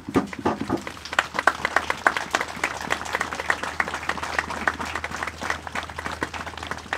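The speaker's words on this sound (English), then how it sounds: "please stand or raise your hand so we may applaud you" A crowd at an outdoor Wreaths Across America ceremony in Enfield, Connecticut applauds veterans with sustained, moderately distant clapping, dense and even, with individual claps standing out.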